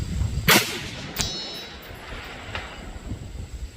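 A 5.56 rifle shot rings out near at hand, followed about half a second later by a faint, short, delayed metallic clang as the bullet strikes a steel target 500 yards away.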